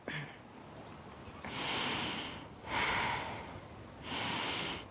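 Slow, deep yoga breaths, three long airy inhales or exhales each lasting about a second, close and soft, spaced evenly with quiet pauses between, outdoors at sunrise on the Algarve.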